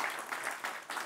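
An audience at a French ski federation club forum applauds a speaker, a brief, dense wash of clapping from a crowd in a hall.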